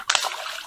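A hooked bream thrashes at the surface, giving one sharp, close splash followed by a brief sloshing spray of water.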